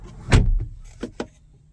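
A 2025 BMW X3's door is opened right after the engine is switched off, giving one fuller clunk of the latch and door followed by two quieter clicks from the cabin, close by with no talking.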